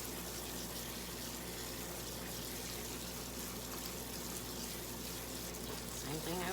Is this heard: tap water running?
yes